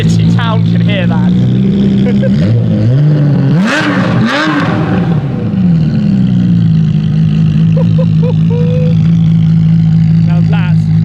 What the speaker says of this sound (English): Now that is a proper V12 sound.